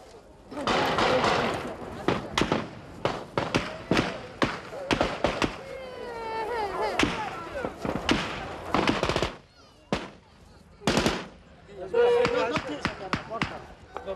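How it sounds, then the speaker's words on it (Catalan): Sharp gunshots crack out in irregular bursts, some rapid and clustered, amid shouting and agitated voices of a crowd of Kurdish refugees facing soldiers in 1991. "se senten els primers trets."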